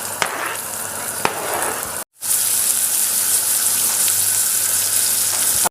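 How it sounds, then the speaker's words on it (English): Onions fry in hot oil with garlic, green chilies and curry leaves for kadala curry, a steady loud sizzle that cuts out briefly and then resumes with a few soft stirring clicks. "I'll fry the onions."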